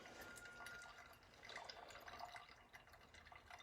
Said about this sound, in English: I'm just going to flip this switch and let that drain